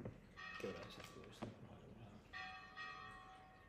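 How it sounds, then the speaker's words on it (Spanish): Church bells ring in a quiet room, their sustained tones sounding twice, the second peal lingering for over a second, with someone speaking in short bursts between and over the bells. "la perturbación aquí es las campanas, que antes duraban a las 6, van retrasándose un poco, pero todavía interviene"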